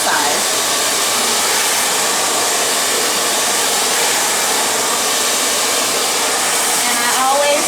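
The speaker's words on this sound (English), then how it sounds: "You're not going to hold the blow dry there because you risk burning her" A hair dryer blow-drying a section of hair with a brush, giving a loud, continuous close-up whooshing whine that holds steady throughout.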